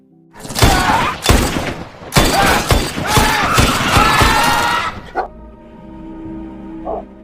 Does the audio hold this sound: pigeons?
no